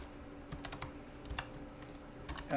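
Typing C code, including printf statements, on a computer keyboard: a steady run of close, light key clicks with small bursts and pauses and no voices, ending with a louder clatter.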